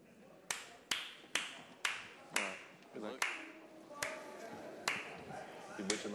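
At the EPT San Remo poker final table, a sparse, slightly uneven run of about a dozen sharp hand claps rings out near the microphone, with faint talk in the room.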